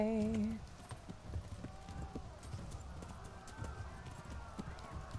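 Rhythmic hoofbeats of a galloping horse in the video game Kingdom Come: Deliverance, steady and close, with a brief whinny at the start and someone talking over the running.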